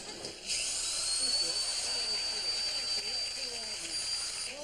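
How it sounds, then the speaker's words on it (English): A high-pitched whining drill runs steadily throughout on a late-night TV talk show set, with people talking faintly underneath it. "What was doing that drilling?"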